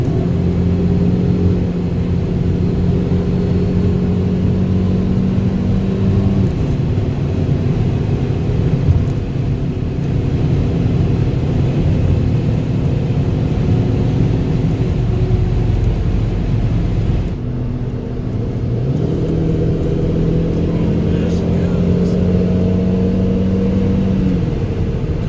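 A 2006 Saab 9-5 Turbo with flood history starts and runs, a steady engine drone with a whining hum that dips once and then resumes at a near, constant level.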